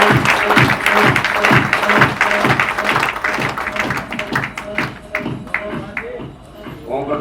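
An audience claps at a gathering, with fairly loud, rhythmic hand claps that keep a steady beat, and a voice talking over them throughout before the clapping thins out toward the end.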